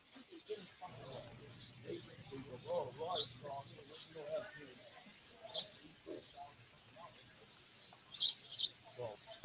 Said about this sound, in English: the sweet sound of birds chirping